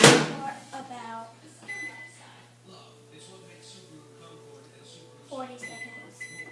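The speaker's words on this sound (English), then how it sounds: "So I'm going to stick this in my microwave" A steady low microwave hum runs throughout, with a few clicks and clatters, a couple of short beeps, and a voice talking quietly over it.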